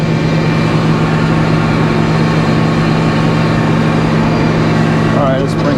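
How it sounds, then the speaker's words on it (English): An engine-driven sawmill cuts through snowy hemlock logs in cold weather, a loud, steady engine drone with a constant low hum that holds evenly throughout, with no break in the running noise. "Sawing our snowy logs."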